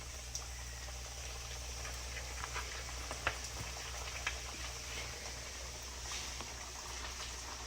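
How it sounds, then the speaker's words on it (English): Steady, faint crackling and bubbling of hot oil as Puerto Rican pastelillos fry, with small pops scattered over a constant low hiss. "You can hear it bubbling"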